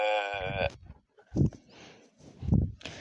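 A voice imitates a sheep's bleat, one wavering, strongly harmonic cry at the start, followed by other vocal sounds, during Minecraft play.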